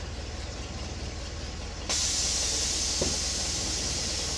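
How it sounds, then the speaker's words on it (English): Air ride suspension on a 1947 Chevrolet Fleetline releases with a sudden loud, steady hiss of venting air that carries on to the end, over a low idling exhaust rumble, with a brief click partway through. "I'll lower the air ride."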